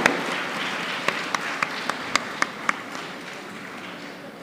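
Applause from the audience at a university convocation, a steady wash of crowd clapping with a few sharp, close single claps standing out in a loose rhythm.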